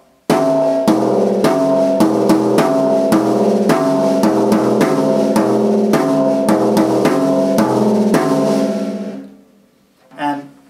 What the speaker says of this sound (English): So that's another variation of the surdo rhythm.